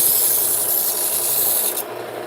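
A mower blade is sharpened with a continuous harsh, scraping grind, rough and close, with a slight drop in intensity near the end.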